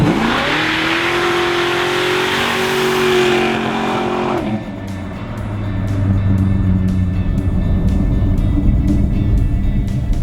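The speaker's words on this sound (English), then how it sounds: "Brian showed me what that old Coronet could do." An old Dodge Coronet roars loudly and close, its engine revving hard and climbing in pitch, then dropping briefly before building again into a sustained, throaty acceleration with possible tyre squeal.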